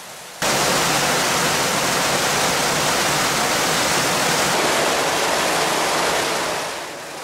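A stream rushes through a bypass channel beneath a textile mill building, starting abruptly as a loud, steady torrent of flowing water that continues unbroken before easing slightly at the end.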